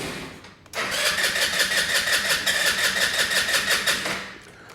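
A Chinese Mustang scooter engine cranks briefly, then catches and runs with a steady, rapid pulsing, loud and close, before tailing off and dying out after about four seconds.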